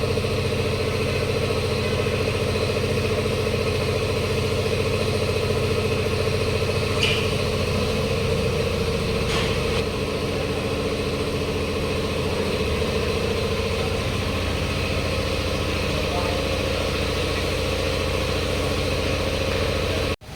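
A Suzuki V-Strom SX 250 motorcycle engine runs at a steady idle after servicing, a continuous close hum with faint mechanical clicks throughout and no speech.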